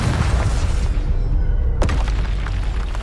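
A Confringo blasting spell explodes in the Hogwarts Legacy video game, landing as one sharp, loud blast partway through amid a dense, steady rumble of combat noise.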